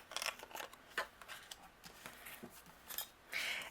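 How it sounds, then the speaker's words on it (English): Scissors trim overhanging card paper from a handmade Christmas card in a series of quiet, close snips and rustles, each cut short and crisp, with no talking. "Anything overhanging, we're going to trim off with the scissors."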